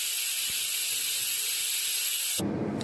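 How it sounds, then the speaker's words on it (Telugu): Steam hisses steadily and loudly from a pot of cooking rice, a broad bright rush that cuts off abruptly near the end, leaving a lower, duller noise. "ఆవిరి మొత్తం పోయింది."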